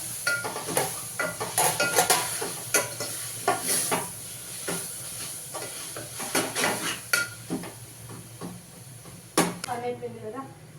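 Hot tempering sizzling over raw tamarind chutney in a home kitchen, crackling bursts with utensil clinks and stirring scrapes while someone talks intermittently.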